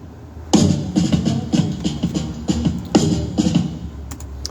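A drum kit played in a live mix with processing effects on every drum, close and punchy, with a steady groove of hard kick and snare hits and ringing cymbals, heard alone without talk.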